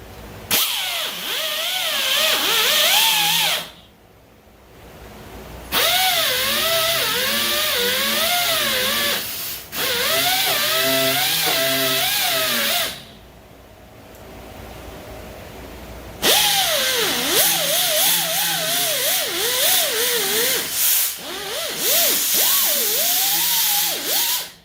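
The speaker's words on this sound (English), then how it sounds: "I broke out a little die grinder with, I call these, it's like a little drum sander, cartridge style" A die grinder fitted with a cartridge-style drum sander works on a Foxbody Mustang door, high whining bursts that rise and fall in pitch as it bites, stopping for short pauses between three long runs.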